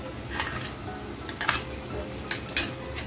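Masala with coconut and poppy seed paste is stir-fried in a pan under a low steady sizzle, with a few light scrapes and clinks of a spoon against the pan, close and without speech.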